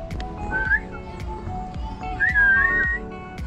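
Two rising-and-falling whistled phrases at the Indianapolis Zoo, a short one and then a longer one, over a background of muffled talk and ambient noise.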